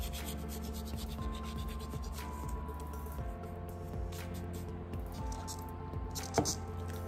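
Dried thyme, about three quarters of a teaspoon, is rubbed between the hands over a salmon tourtière filling, a soft close crumbling rustle that runs for several seconds over a steady background hum.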